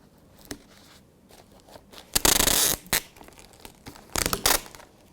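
A longer piece of sellotape is pulled off the roll and torn while a paper flag is being made. Two loud, rasping bursts stand apart against a quiet background.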